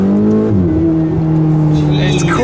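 A Ferrari 488 GTB engine accelerates, its loud tonal drone climbing and shifting pitch through the revs, heard close from inside the car.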